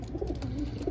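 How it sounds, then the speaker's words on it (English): A racing pigeon coos at a basketing session, soft low throaty warbles repeating close by over light background noise. "I know James' bird, he was just out there cooing"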